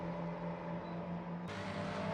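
A GT3 race car engine at Red Bull Ring in a racing game drones at a steady pitch, then jumps to a harsher, higher tone partway through with a throttle change.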